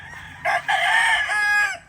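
A rooster crows loudly and close by, one long strained call with a short break near the start, alone against quiet background.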